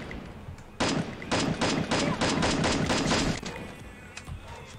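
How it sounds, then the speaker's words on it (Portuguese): Rapid bursts of automatic gunfire in the battle royale game Free Fire, fired from a distance across the map, crackling steadily for about two and a half seconds before trailing off into quieter background noise. "Um cara do outro lado, que tava atirando."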